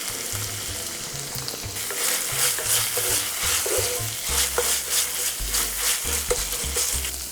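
Pork and peas stir-fried in a pan with sesame oil, giving a loud continuous sizzle and frying hiss broken by repeated scraping and stirring strokes, with no talking.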